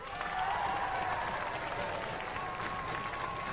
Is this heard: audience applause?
yes